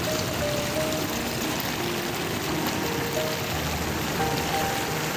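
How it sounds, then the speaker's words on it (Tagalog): Strong floodwater current gushing and churning steadily, a dense, continuous roar of rushing water at close range with no break or voices. "Lakas ng higop ng tubig, oh. Agos, oh. Bumubulwak"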